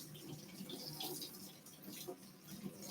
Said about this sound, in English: When you're rinsing your horn, if it's lacquer based like this one, you don't want the water to be too hot